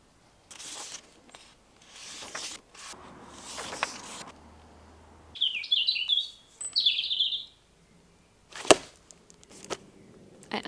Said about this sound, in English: all I can hear are the birds